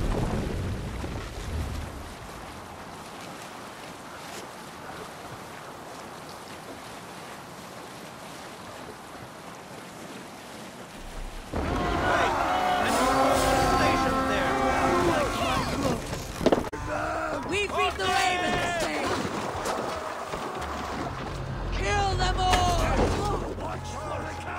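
A sailing ship putting out to sea in Assassin's Creed Valhalla: a low rush of wind and waves at first, then louder surging water with creaking and voices over it.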